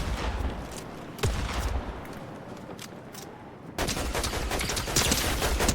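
Gunfire in a ranked shooter video game, a string of sharp shots and bursts cracking loudly over a steady background of game noise, with heavier sustained firing toward the end.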